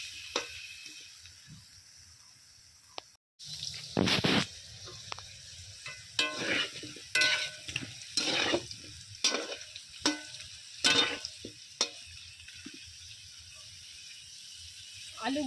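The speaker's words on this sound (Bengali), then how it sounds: "আলুগুলোকে আমি খুব ভালো করে ভেজে নেব।" Potatoes fry in a pan with a steady background sizzle, broken by repeated louder bursts of stirring and scraping that come at an irregular rhythm. A faint voice is heard now and then.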